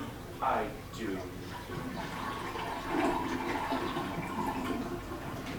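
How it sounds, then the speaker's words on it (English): Toilet flushing on stage during a farce performance, a rushing water surge followed by gurgling refill, mixed with actors' voices and audience noise in a theatre. "Flush it again."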